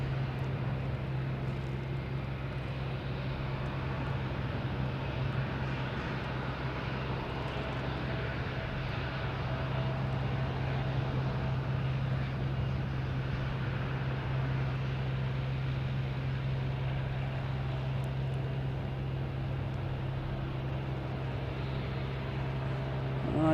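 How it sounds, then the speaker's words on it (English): Delta E175 jet airliner arriving from LaGuardia at Boston Logan Airport, a steady, continuous engine roar and rumble at moderate distance, with no talking. "We have a Delta E175 coming in from LaGuardia."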